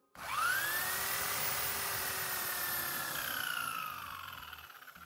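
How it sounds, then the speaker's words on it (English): An electric drill spinning a car alternator whirs up to speed and holds a steady, high motor whine for several seconds, easing off slightly near the end. "I use my drill to do that."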